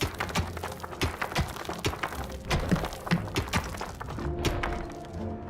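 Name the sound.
rhythmic thumping from underground in video game Dungeons 3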